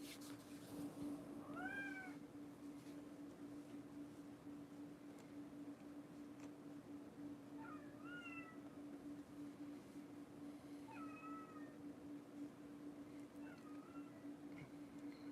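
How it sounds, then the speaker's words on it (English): A house cat meowing from a little distance, four separate drawn-out calls spaced a few seconds apart over a steady low electrical hum. "We can't have the cat just meowing the whole entire time."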